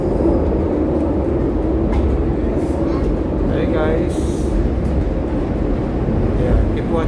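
Riding a Barcelona metro train: a continuous loud rumble and rattle of the carriage fills the space, with a voice talking intermittently over the steady noise.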